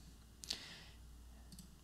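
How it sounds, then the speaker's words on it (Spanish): A single crisp computer mouse click, close and faint, followed by a softer second tick a second later over quiet room hiss. "acá abajo le vamos a dar clic en Next"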